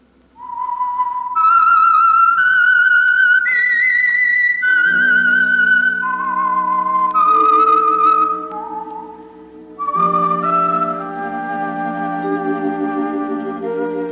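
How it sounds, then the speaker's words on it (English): A whistled theme signal for the radio program The Whistler: a clear, sustained melodic whistle of rising and falling tones, loud and close, with a deeper musical accompaniment swelling in underneath partway through. "That whistle is your signal for the Signal Oil program, The Whistler."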